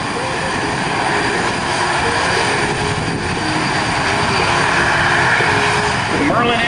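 Aircraft powered by Merlin engines at the Windsor airshow roars with a loud, steady propeller drone throughout, heard close up with a person talking over it.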